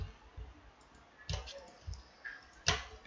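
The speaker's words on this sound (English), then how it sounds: "do the right click and select revert" Computer mouse right-clicks in Mastercam CAD software: a few sharp, light clicks spaced irregularly across the moment, close and fairly quiet, with no talking.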